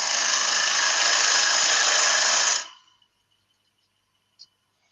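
A power tool cuts a tenon in yew wood with a loud, steady high whine that stops abruptly after nearly three seconds, followed by near silence and one small click.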